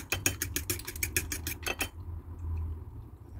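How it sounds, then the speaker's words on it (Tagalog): Eggs are scrambled with butter in a bowl, a utensil clinking rapidly and sharply against the dish for about two seconds before stopping, leaving a low background hum and no talking. "Scramble na natin yung egg."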